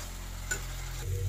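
Tomato and onion paste masala is stirred in a pan with a soft, steady scraping and a faint sizzle, one brief clink near the middle, with no one talking.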